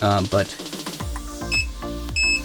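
Short electronic low-battery beeps from a Hubsan Zino 2 drone battery sound a few times at a high pitch, interleaved with a person speaking.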